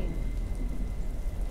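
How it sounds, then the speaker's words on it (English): Rain pattering steadily on a surface, a soft continuous hiss with a low rumbling undertone, no voices. "Crap, it's starting to rain."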